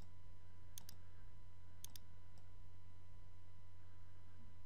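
Computer mouse clicking during design work in Canvas Workspace software, two quick double clicks followed by a faint single click, crisp and close over a steady low hum.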